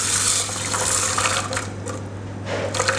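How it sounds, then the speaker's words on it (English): Water running steadily from a tap into measured rice for cooking in a Ninja or pressure cooker, a continuous close splashing flow throughout with no voices. "I'll also put into that 200 mils of water"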